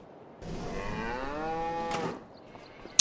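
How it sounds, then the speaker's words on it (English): A single drawn-out cow moo rises and holds for over a second before a short grunting tail, sounding clear and close with no talk, from a Farming Simulator 25 dairy herd of 25 cows calling for feed. "We have 25 cows who are roaring for feed."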